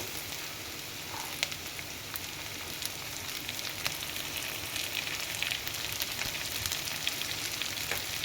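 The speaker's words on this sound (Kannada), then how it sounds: "ಟೊಮೊಟೊನ ಹಾಕಿ ಫ್ರೈ ಮಾಡಿ" Tomatoes frying in a pan for wedding-style rasam give off a soft, even sizzle with occasional faint clicks, heard alone at close range.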